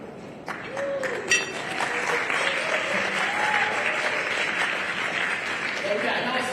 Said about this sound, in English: I appreciate those claps